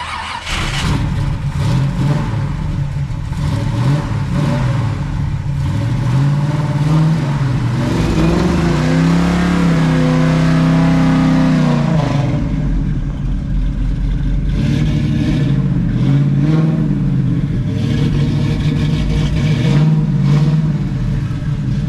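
A 1957 Chevrolet convertible's engine idles and then revs up, rising and falling in pitch as it pulls away and keeps driving, loud and nearby.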